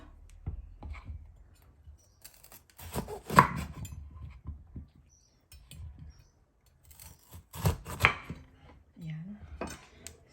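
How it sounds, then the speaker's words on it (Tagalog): A knife slices ampalaya (bitter melon) thinly on a cutting board in quiet, uneven bursts of crisp cuts and taps with pauses between them, close and fairly soft. "next na gagawin natin ay atin nang hiwa-hiwain ng manipis lang itong ating ampalaya"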